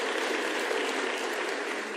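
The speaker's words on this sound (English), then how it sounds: "let's give them a round of applause for having done all this work" Steady applause from a large audience at South Africa's first National Dialogue convention, a dense even wash of clapping that holds for the whole two seconds with no talk over it.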